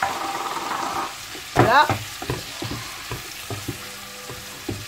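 Diced meat and chopped tomato sizzle and hiss in a pan while being stirred for Cantonese fried rice, with scraping utensil taps and a brief loud burst; a voice speaks briefly near the start.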